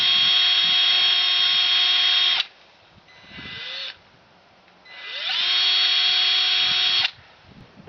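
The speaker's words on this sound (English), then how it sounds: "I'm going to drill two 3/16 holes for the hardware" A power drill whirs at high pitch for a couple of seconds, winds down, briefly revs softly, then spins up again for a longer steady burst drilling 3/16-inch holes in a railing bracket.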